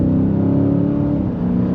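A 2023 Dodge Challenger R/T Scat Pack Swinger accelerates hard from the cabin, its engine a loud, deep roar with a rising drone that shifts pitch partway through the short burst.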